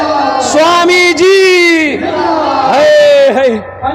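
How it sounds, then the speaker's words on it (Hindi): A dense crowd loudly shouting the Naara-e-Takbir slogan with raised hands, voices rising in a long, drawn-out unison cry, close and forceful, in two surging waves. "हाथ उठा के नारा लगाओ, नारे तकबीर, नारे तकबीर"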